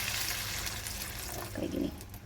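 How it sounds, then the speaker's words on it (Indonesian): Water pours into a soup pot for sapo tahu bakso, a steady rushing splash with a brief deeper gurgle near the end, close and moderately loud. "Masukkan air"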